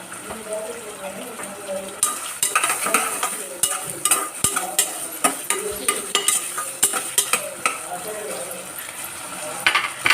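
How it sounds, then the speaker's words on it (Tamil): Ingredients sauté in a pan for coconut milk rice, with salt added, as a spoon stirs and scrapes in irregular clicks over a steady sizzle, close and fairly loud. "கொஞ்சம் நல்லா வதங்கட்டும்"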